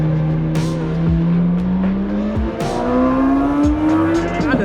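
C8 Corvette Z06 race car on a racetrack, a loud high engine note climbing steadily in pitch with brief tire squeals and whooshes as cars go past, with voices now and then.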